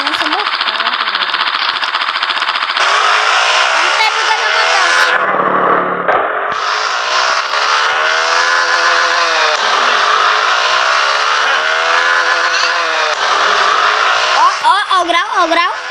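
A motorcycle engine revs hard and close on a Brazilian street, holding a loud high whine with a brief drop in pitch midway before climbing back to full throttle, with short revving bursts near the end.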